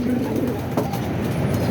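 A racing pigeon coos close by at a loft in Pagbilao, Quezon, giving a soft, throaty call over a steady low background.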